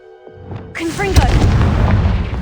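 A Confringo fire spell bursts in the Hogwarts Legacy video game, sounding as a sudden booming blast with a long noisy rumbling tail. A short voiced shout and some whooshing tones come just before the blast.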